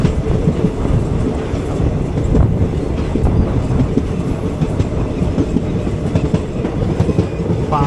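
The 06061 Summer Special Express rolls toward Madurai Junction with a steady, loud rumble and rhythmic clickety-clack of wheels over rail joints, continuous throughout with no talking.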